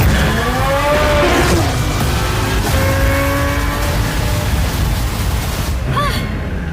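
Twin-turbocharged V8 of a carbon-fiber supercar roaring loud and close with a steady high-revving drone and shifting whine tones, sustained throughout with no talk.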